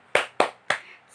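Three sharp, evenly spaced claps make up a tepuk semangat clapping ice-breaker led by a classroom counseling teacher, each a crisp close hand clap with no voices.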